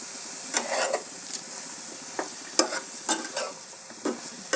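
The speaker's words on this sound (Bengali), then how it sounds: "ভালো করে নেড়ে মশলাটা মিশিয়ে দেবো" Fig curry being stirred in a hot pan after salt, turmeric and coriander powder go in: a steady low sizzle with scattered scrapes and soft spoon knocks against the pan, fairly close.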